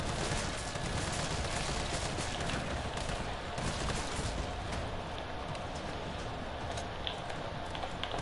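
Turret gunfire in the Resident Evil 3 video game, a dense, continuous roar of rapid shots that stays loud and unbroken, with no clear talking.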